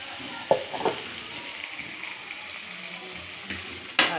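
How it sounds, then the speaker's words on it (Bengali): Onion, ginger, garlic and tomato frying with mutton in a wok, a steady close sizzle with occasional sharp clinks and scrapes of stirring, no voices. "এই যে কড়াইতে পেঁয়াজ আদা রসুন সব ভাজা হচ্ছে,"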